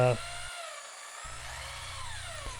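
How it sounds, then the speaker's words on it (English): An old corded electric drill whirs steadily and fairly loudly for a few seconds mixing epoxy, its pitch wavering slightly as it churns. "And then I mixed it up using my electrical drill"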